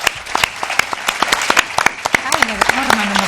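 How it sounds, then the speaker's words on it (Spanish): Audience applause for a visiting animated film team at a Spanish film market event, dense clapping from a crowd filling the room, with a voice speaking over it partway through. "Un fuerte aplauso para todo el equipo que ha venido."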